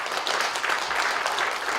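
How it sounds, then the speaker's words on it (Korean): A church congregation claps together in a brief, steady burst of applause, dense and fairly close, with no voices over it. "박수 좀 부탁드리겠습니다."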